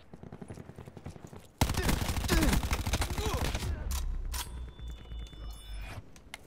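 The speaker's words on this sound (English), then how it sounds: "This is rapid fire." Rapid-fire gunfire from the video game Black Ops 4 erupts in a dense, loud stream of shots lasting a couple of seconds, then trails off into scattered mechanical clicks and game ambience.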